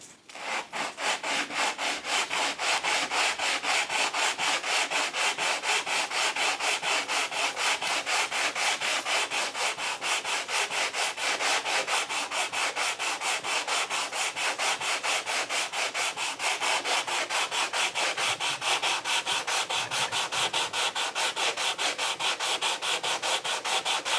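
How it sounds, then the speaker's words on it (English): Sandpaper rubbed back and forth over wood in fast, even strokes, a continuous close scratching rhythm with no talk. "fine sanding, because this is going to leave tracks."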